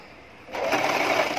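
A sewing machine runs a continuous straight seam along a palazzo pant, starting abruptly after a quiet moment and whirring steadily and loudly close by for about a second.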